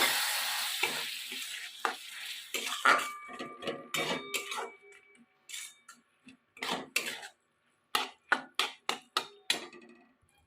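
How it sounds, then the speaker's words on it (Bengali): Moong dal and pointed gourd being stirred in a cooking pan, with a soft sizzle and repeated scraping clicks of the spoon against the pan, close and moderately loud, with brief pauses between strokes and no talk. "মুগের ডালটার সঙ্গে ভালো করে মিক্স করে নেব অল্প অল্প জল দেবো দিয়ে ভালো করে কষে নেবো"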